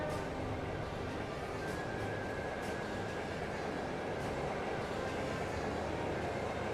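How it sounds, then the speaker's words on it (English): Train rolling along in the video game Trails of Cold Steel, a steady, loud rumble with a faint metallic whine running through it and no talk. "More trains, huh?"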